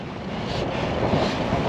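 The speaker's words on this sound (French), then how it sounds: "Par contre le vent, wouh." Strong wind buffets a microphone while cycling on a road bike, giving a loud, steady broadband roar with gusty swells that runs unbroken throughout.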